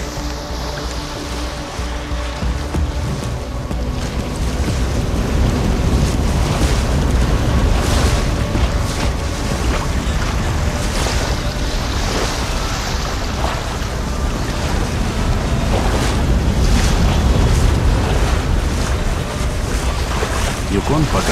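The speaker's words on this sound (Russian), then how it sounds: "В районе Нулата бывают очень сильные ветра и крутые волны." Strong wind and steep waves churn the Yukon River near Nulato, Alaska. A loud, continuous low rumble of gusting wind and slapping water builds slightly and then holds steady.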